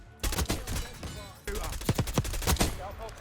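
Rapid automatic AK74 rifle bursts in Black Ops 6, loud and close, come in two strings of fast cracking shots separated by a brief pause.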